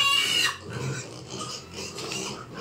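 Month-old piglets on a farm in a Philippine province give a short grunting squeal at the start, followed by quiet rustling and faint snuffling.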